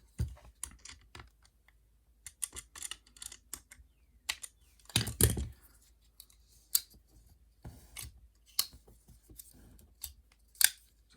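Screws being tightened on a Spyderco Tenacious pocket knife during scale installation: irregular bursts of sharp ratcheting clicks and scrapes, close and crisp, with quiet pauses between.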